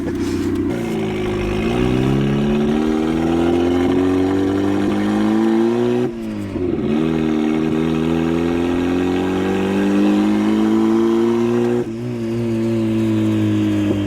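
A turbocharged Mazda Miata engine revs loud and steady, its rising whistle sweeping up and down with the throttle across the stretch, with two brief dips as it lifts off.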